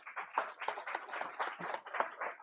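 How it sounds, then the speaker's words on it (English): A small group claps for about two seconds at a competition prize event, with fairly even, close, moderately loud claps and no voices. "A big round of applause for all of you."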